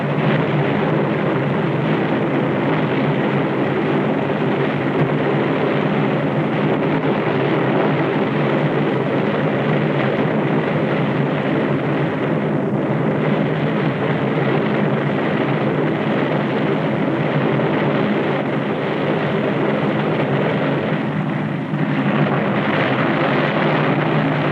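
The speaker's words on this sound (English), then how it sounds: "Kansas City Tower, TWA Flight 2, ready for takeoff." A 1950 TWA propeller airliner roars steadily through its takeoff run, a loud, continuous drone of piston engines and spinning propellers that holds near and constant with no speech over it.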